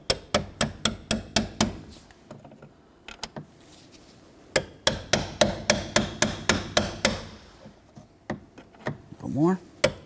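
A hammer taps a hinge pin down into the door hinge of a 1988–2000 Chevy K1500 in a series of sharp, evenly spaced metallic strikes, two bursts of about ten blows each with a pause between, loud and close, with a few scattered knocks after.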